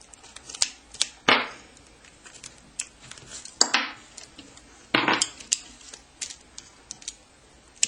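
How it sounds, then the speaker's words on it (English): Batteries are pulled from an XMODS toy car, giving close, sharp metallic clicks and scraping snaps of plastic and metal in a few separate bursts, with no talking. "I'm going to yank my batteries out real quick."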